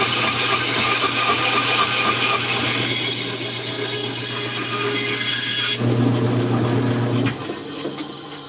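A saw blade started in the kerf cuts through wood, a loud, close, steady rasping stroke that runs continuously and then tapers off near the end, with no talk.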